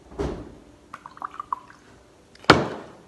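Black vinegar is poured into water, a few soft drips and a brief trickle followed by a sharper splash, close and fairly quiet.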